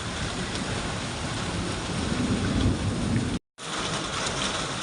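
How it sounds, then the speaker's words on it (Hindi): Heavy rain with some hail pours steadily onto surfaces in a mountain village in Pitthoragarh, Uttarakhand, a loud, dense and continuous hiss with a momentary dropout near the end. "कभी कभी ओले भी गिर रहे हैं बीच बीच में"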